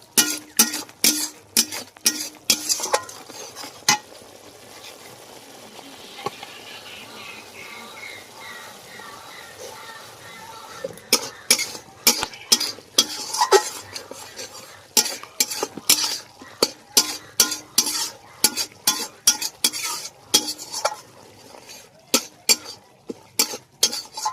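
Spice paste with Kashmiri chilli powder is sautéed in a pan. Rapid, sharp clacks of a spoon scraping and stirring come in bursts over a faint sizzle, with a quieter stretch in the middle.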